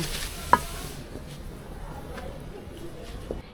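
Onions fry in oil in a pan toward golden crispness, with a soft, steady sizzle that drops lower after the first second, a sharp clink of utensil near the start and occasional light stirring taps.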